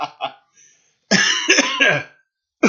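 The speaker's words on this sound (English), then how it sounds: "I didn't mean to cough in your guys' ear." A man coughs, two quick short coughs, then after a pause a louder harsh cough close to the microphone, on a live stream.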